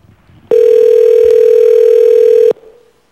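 A steady, loud telephone dial tone sounds alone for about two seconds before cutting off abruptly, on a phone line opened to take testimony at a planning and zoning commission meeting.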